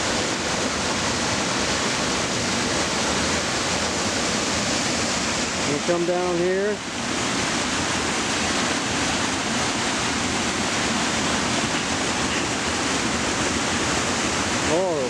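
Waterfalls pouring over bedrock in a high-running stream roar as a loud, constant rush close by, with someone speaking briefly partway through.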